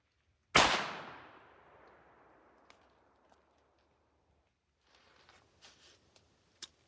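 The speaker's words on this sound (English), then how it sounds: "just heard a shot" A single muzzleloader rifle shot fired some distance away during a deer hunt, a sharp crack followed by a long rolling echo that fades over about two seconds, then a few faint ticks and rustles.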